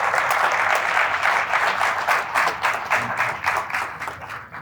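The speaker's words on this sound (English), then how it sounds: "So big applause for your teachers from ISBR" An audience gives teachers a big, steady round of applause from a crowd at a talk, dense clapping that swells and holds loud throughout without speech.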